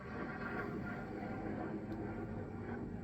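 A steady, broad low roar of an airplane passing overhead fills the scene, even and continuous without pause.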